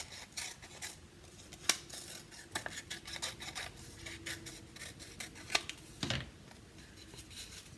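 Scissors snip through purple paper in a children's shape-cutting craft, a steady series of close, crisp cuts and rustles with small rhythmic clicks and no talking.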